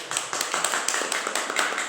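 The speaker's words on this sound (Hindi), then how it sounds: "एक बार इसके लिए भी जोरदार तालियां" Applause at an indoor business gathering celebrating a new RCM shop opening, a crowd clapping in quick, fairly regular beats that sound close and moderately loud, with no talking over them.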